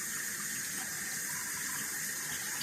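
Warm water runs steadily from a tap to rinse store-bought rose stems, a constant loud hissing gush with no pauses or voices.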